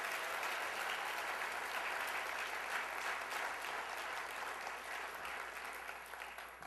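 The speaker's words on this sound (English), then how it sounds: "give another round of applause to all these guys that head off the stage" Steady applause from a crowd, a dense wash of clapping that holds evenly and then gently tapers off near the end.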